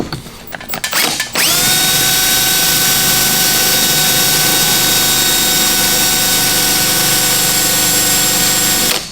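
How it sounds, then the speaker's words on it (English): A power tool starts up after a few knocks and then runs steadily at a high, loud whine as a hole saw grinds through a wall for a ductless mini split install. "we'll get our hole saw and cut that out"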